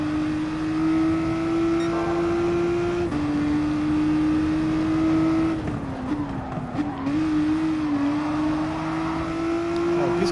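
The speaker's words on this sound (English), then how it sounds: "I've been basically flooring this Roadster almost all the way." A GTI Roadster VGT race car in Gran Turismo Sport holds a loud, sustained high engine whine at full throttle, the pitch dipping at a gear shift then climbing again over ten seconds.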